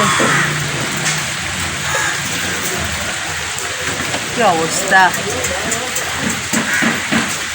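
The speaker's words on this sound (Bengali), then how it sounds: "দেখো যেমন বর্ষাকালের মতন বৃষ্টি হচ্ছে পুরো বর্ষাকাল" Heavy monsoon-like rain pours down in a steady, dense hiss that fills the whole stretch, while people talk briefly over it.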